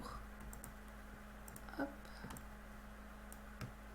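Computer keyboard keys and mouse clicks while selecting outlines in Bernina Embroidery Software 8, a few sparse faint clicks under steady background hum, with a brief spoken word.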